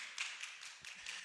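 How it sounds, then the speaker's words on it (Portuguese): Faint, distant applause, a soft patter of many hands clapping continuously for a moment, thin and far off. "Salva de palmas, quem está aqui."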